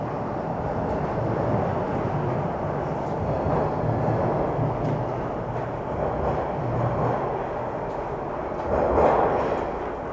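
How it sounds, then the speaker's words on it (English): Toronto subway train pulling into a station, a low steady rumble of wheels and motors that swells slightly near the end, heard from the platform without talk. "it looks like the next train will be southbound"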